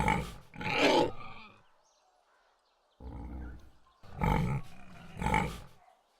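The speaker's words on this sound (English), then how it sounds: "Those pigs are being fed enough." Pigs in the fantasy adventure game The Dark Eye: Chains of Satinav let out several deep, rough grunts and snorts in loud separate bursts with short quiet gaps between them.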